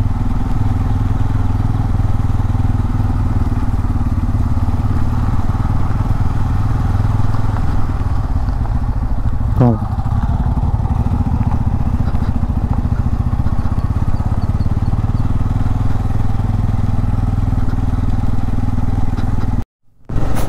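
A Bajaj Pulsar N250 motorcycle rides off-road with a steady, close, low engine drone and a throbbing exhaust note that holds an even pace for about 20 seconds.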